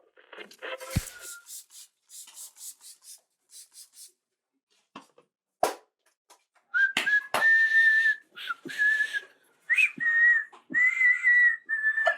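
Scraping and rubbing sounds at first, then a person whistles in short, steady bursts with gaps between, fairly close and clear.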